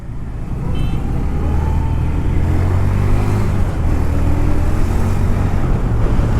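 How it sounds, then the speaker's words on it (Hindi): Road traffic jam on a city highway, a dense continuous rumble of engines with low droning vehicles close by and no voices. "शहर सारा जागा हुआ है, हर तरफ ट्रैफिक जैम है"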